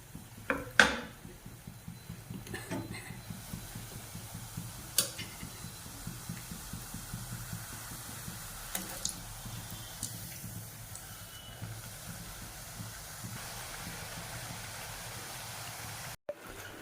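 Murukku made from rice flour frying in hot oil in a pan, giving a steady low bubbling sizzle with scattered clinks of a utensil against the pan, with no voices.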